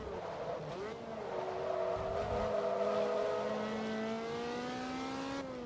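Ferrari F430 Challenge engine racing in Forza Motorsport 2, a loud steady whine that rises smoothly under acceleration and holds high before easing off, with a voice talking over it.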